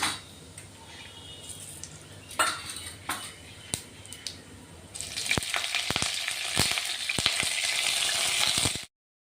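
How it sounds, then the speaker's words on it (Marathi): Mustard and cumin seeds crackle in hot oil, then curry leaves go in and set off a louder, dense sizzle with sharp pops and spatters through the second half, in a home kitchen tempering. "जिरे मोहरी चांगली तडतडली की आपण कढीपत्ता टाकतोय"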